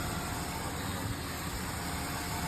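A hot 2003 Ford Taurus engine idles at a steady, close, even hum with a broad noisy wash and no voices over it.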